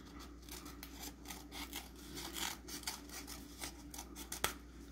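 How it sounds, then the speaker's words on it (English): Scissors trim paper for a craft project, making a quick series of crisp, close snips in an uneven rhythm against a quiet background. "We can take our handy dandy scissors and we can just trim it to make it even."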